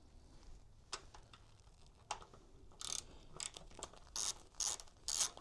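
A ratchet works a 12 mm bolt on a 2024 Yamaha MT-09 stock exhaust, quick bursts of clicking pawl sound, sparse at first and then more rapid and clustered, close and fairly quiet with no talk.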